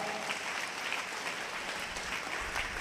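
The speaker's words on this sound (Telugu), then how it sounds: "చప్పట్లు కొట్టండి గట్టిగా." A church congregation claps loudly together during a sermon, a dense and continuous burst of applause that stays steady from start to finish, close and with no talk over it.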